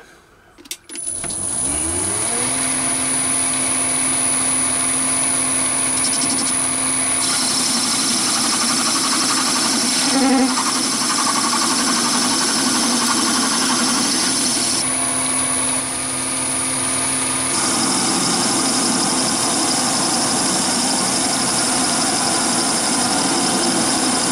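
A lathe turning the end of a ball turning mandrel, a steady close whirring machine drone that runs alone almost without change, with faint cutting noise and a brief tonal squeal near the middle.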